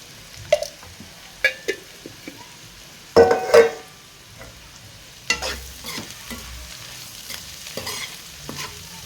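Ivy gourd (dondakaya) fries in a pan, a soft steady sizzle broken by scattered stirring scrapes and clatters from a utensil against the pan, close and fairly quiet.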